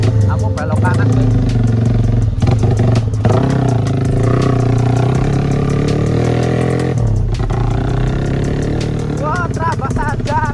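A Honda CB motorcycle engine hums and revs on a road ride, a steady mid-pitched drone rising and falling with throttle changes, heard close under a rider talking and wind noise.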